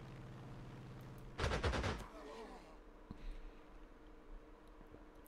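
A fighter plane strafes in the Panzer Corps 2 wartime strategy game, set in the Spanish Civil War: one loud burst of rapid machine-gun fire lasting about half a second, then a quieter rumbling tail and faint scattered effects, with no talking.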